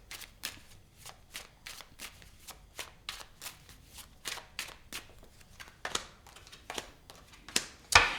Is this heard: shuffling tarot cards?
yes